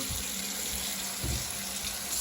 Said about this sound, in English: So you're just going to stick the water on